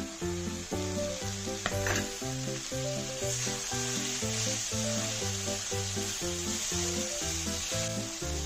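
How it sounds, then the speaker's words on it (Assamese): Spices sizzle steadily in a pan for a dry fish and dried prawn curry, a constant close frying hiss running under loud rhythmic background music throughout. "মছলাৰ লগত অলপ সময় ভাজি লওঁ"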